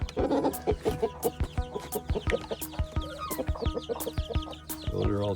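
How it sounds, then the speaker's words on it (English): A hen clucks softly and repeatedly at close range, with tiny high cheeps from her chicks scattered throughout and a few sharp taps and knocks mixed in. "Those are all chicks."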